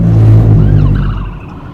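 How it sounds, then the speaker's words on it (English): Heavy emergency truck rushing past a car on the road, a loud, close engine roar and rumble that swells and then fades over under two seconds, with no talking. "There's an emergency truck right behind me."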